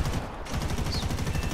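Aircraft guns strafing in War Thunder, fired from a Firefly FR Mk V fighter: a loud, continuous burst of rapid, evenly spaced shots rattling at machine-gun pace throughout.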